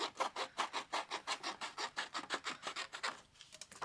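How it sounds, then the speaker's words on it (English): A 12 x 12 sheet of card paper being cut, a close, quiet, rhythmic series of regular scraping strokes that slows and tapers near the end. "So I'm just going to cut all the way down here"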